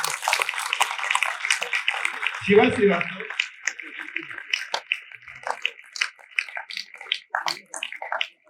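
Applause from a convocation audience, a sustained wash of clapping that thins into scattered individual claps while a name is announced over the loudspeaker.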